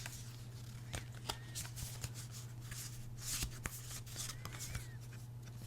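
Paper planner cards handled and shuffled close by, with soft sliding rustles and occasional sharp flicks and taps over a low steady hum, fairly faint.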